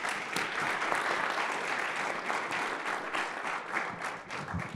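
A conference audience at a technology investment summit breaks into steady, dense applause that holds at an even level for several seconds, a full room clapping together.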